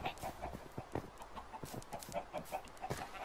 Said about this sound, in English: There's a lot of chickens in there.